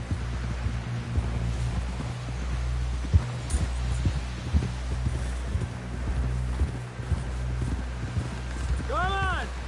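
Horse hooves clip-clopping in the video game Red Dead Redemption 2, a steady, moderately close trotting rhythm that persists throughout, with a brief whinny-like call at the end.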